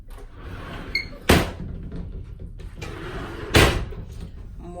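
Light closet doors in a cruise ship cabin slide and knock shut, with two sharp nearby door impacts separated by quieter handling and rustling sounds.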